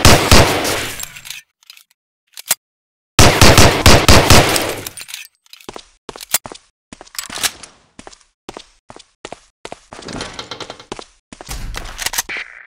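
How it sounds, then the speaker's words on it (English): A .45 pistol fires in Medal of Honor: Allied Assault at a target, giving loud, sharp shots in irregular bursts with short silent gaps between them, plus clattering impacts and a few softer thuds. "Try a couple of shots on that target with your 45."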